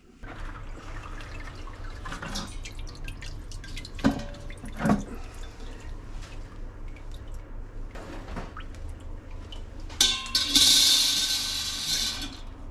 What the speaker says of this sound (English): let it drip a little bit